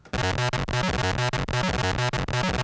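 A harsh sequence from a Roland TB-303 synth with its built-in distortion engaged pulses rapidly in a repeating pattern, loud and gritty throughout.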